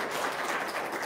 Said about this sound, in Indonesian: Wah, tepuk tangan tuh Bapak Ibu ya